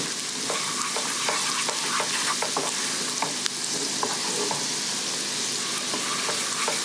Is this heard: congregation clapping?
no